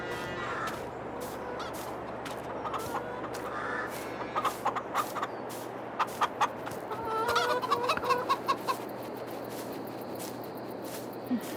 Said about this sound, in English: Chickens are producing eggs.